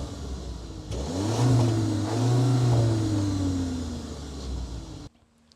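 A 2022 VW Tiguan R-Line exhaust as the engine is revved, rising into a loud throaty roar, holding and wavering, then falling back before cutting off abruptly, heard alone without talk.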